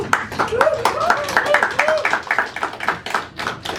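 Applause at a Telugu movie press meet, a quick rattle of hand claps mixed with a voice talking over it at moderate loudness throughout.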